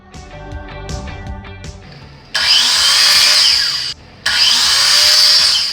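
A power saw cuts through wood in two long, loud bursts with a short pause between, after some clattering handling noises.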